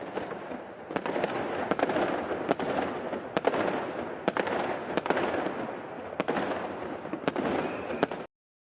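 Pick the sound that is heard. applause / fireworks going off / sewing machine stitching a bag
fireworks going off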